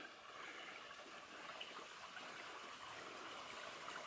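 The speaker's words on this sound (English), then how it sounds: "Nice little brook." Small brook flowing along a backpacking trail in the Red River Gorge, Kentucky, a faint, steady trickle and gurgle of water heard at a quiet distance, with no voices.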